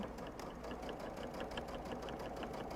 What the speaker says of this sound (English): as you're sewing, you're going to kind of want to keep that nice and flat